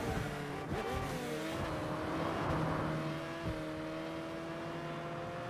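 A car driving in the Saints Row video game, its engine holding a steady tonal drone with shifting pitch, brief revs and faint tire noise, heard alone at moderate distance.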